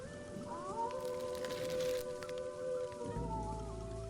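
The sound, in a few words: rain at night in a jungle, cartoon sound effect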